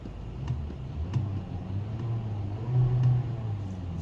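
A 2019 VW Jetta SEL's small engine runs in neutral, a quiet, steady low rumble with faint ticking and no other sounds.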